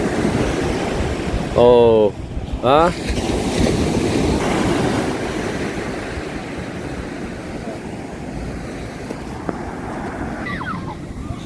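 Ocean surf rumbles and washes steadily with wind buffeting the microphone; a couple of brief voices exclaim early on.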